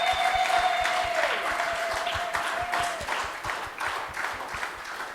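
A church congregation on Easter Sunday breaks into steady applause, a dense wash of clapping that slowly fades, with a faint sustained tone and a low rhythmic thump underneath.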